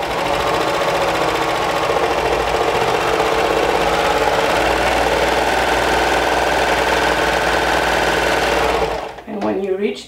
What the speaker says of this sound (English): Okay, so I'm going to sew all this side.